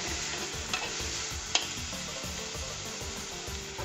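Onions fry in hot oil for Punjabi rajma and are stirred until golden brown, a steady close sizzle with rhythmic spoon scrapes and a couple of sharper knocks against the pan, and no voices.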